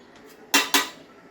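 A wheat bhakri flatbread is flipped on a pan: two quick, bright metallic clinks in succession, close and crisp, each fading fast against near silence.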